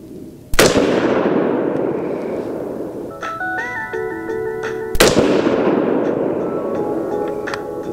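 Two sharp, loud rifle shots from a custom AR10 firing handloaded .308 Win rounds with IMR4064 powder ring out about four seconds apart outdoors. Each crack has a long decaying tail, and clinking metallic sounds fall between them.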